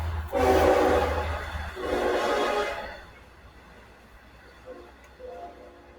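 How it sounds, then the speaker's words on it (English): A passing train sounds two loud sustained horn-like blasts over a low rumble, fading to a quieter, distant tail with faint tonal hints near the end, somewhere in New Zealand sand country. "Train."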